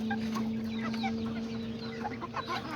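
A small Serama or Azteca hen clucks softly in short, irregular notes over a steady background hum, with other faint chicken sounds nearby and no talking.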